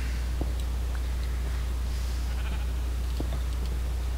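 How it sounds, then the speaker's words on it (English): Faint Minecraft sheep bleats come through now and then over a steady low hum, a few short calls spaced apart with no talking. "Move, freaking sheep. You're always in my way."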